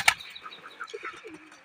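Pigeons in a loft give a sharp burst of wing flapping, then soft cooing and murmuring calls, close and fairly quiet.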